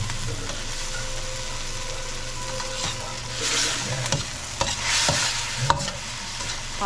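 Onions and tomatoes frying in oil in a pot while being stirred, a steady close sizzle with occasional scraping and clinks of the spoon.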